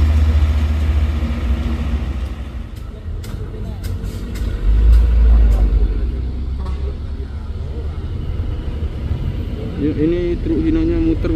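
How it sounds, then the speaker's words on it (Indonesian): Hino truck turning around at an accident recovery site on a hill where trucks failed to climb; a deep, rumbling engine drone persists close by, swelling midway, while people talk over it. "Ini truk hinonya muter"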